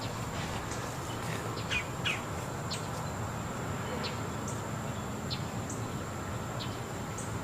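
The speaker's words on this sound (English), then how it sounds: "the birds are chirping at him over there" Birds chirp outdoors on a disc golf course during a tournament round, repeated short high tweets scattered over a steady outdoor hum, with faint commentary talk in the background.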